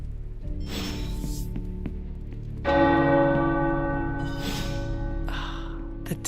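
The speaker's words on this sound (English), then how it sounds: "The tower bells are ringing." Tower bells peal in the Midnight Suns video game, a loud cluster of ringing strikes entering around the third second and lingering with long shimmering overtones, over a steady low background hum.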